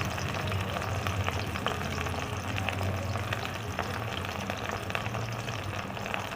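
Mushrooms frying in a pan give a dense, steady sizzle and crackle at moderate loudness from start to finish, with no talking.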